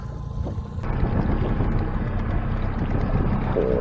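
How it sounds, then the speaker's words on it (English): A big outboard motor on a fishing boat runs with a steady low rumble that swells after a brief start, joined by rushing water and wind, and no one speaks. "As you can see, the big motor is back in action."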